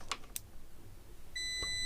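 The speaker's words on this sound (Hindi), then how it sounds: "बिल्कुल बजर काम कर रहा है ऑटोमेटिक में" A MetroQ MTQ 777 auto multimeter sounds its continuity buzzer, a steady electronic beep starting near the end and holding, after a few soft clicks and taps, close and alone.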